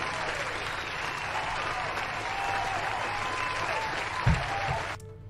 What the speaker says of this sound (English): Applause, yes, thank you.